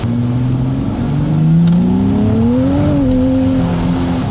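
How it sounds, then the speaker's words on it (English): A sports car's engine revs hard up toward its rev limiter, a loud, close, continuous drone that climbs steadily in pitch, wavers near the top and then settles back slightly, with no talking. "we had a nice example of the rev limiter coming up there"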